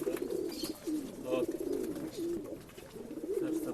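Pigeons coo repeatedly in low, rolling bursts at a pigeon sale in RT Nagar, several birds overlapping close by with faint background chatter.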